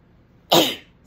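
A single sharp, explosive sneeze bursts out after a moment of quiet, loud and close, then trails off quickly.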